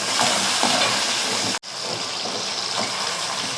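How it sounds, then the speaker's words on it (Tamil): Garlic, shallots and curry leaves sauté in hot oil for vatha kuzhambu, a loud, dense crackling sizzle filling the clip, briefly cut off for an instant midway before resuming. "இது நல்லா பூண்டும் சின்ன வெங்காயமும் நல்லா சேர்ந்து நல்லா வதக்கலாம்"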